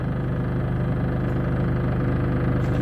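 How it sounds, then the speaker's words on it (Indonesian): A car engine idles steadily after a key start, a close, even low rumble with a regular pulsing throb and no talk. "menghidupkan mesin mobil menggunakan kunci yang baik dan benar"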